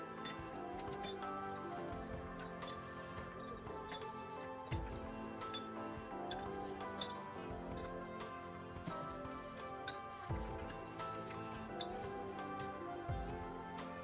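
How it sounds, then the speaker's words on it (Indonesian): Ice cubes clink against glass as they are readied for a simple iftar drink, a steady run of light chinks and taps with faint kitchen background throughout. "Sekarang kita siram atau kita masukkan esnya ya."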